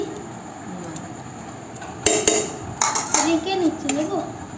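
Metal dinner plates are picked up and set down in a home kitchen. Bright clanks and clinks come close and loud in quick bursts over a low background hum.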